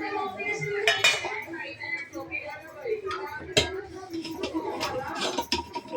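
Usal, a spiced bean curry, is ladled from a pot into a serving dish, with repeated close clinks and scrapes of utensils against cookware and a voice chattering in the background.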